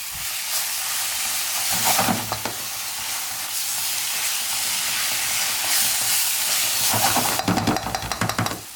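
A spoon stirs pumpkin into hot semolina halva in a pan, giving a steady sizzling hiss with scraping, swishing strokes and a rougher patch of clinks near the end, close and alone without talk.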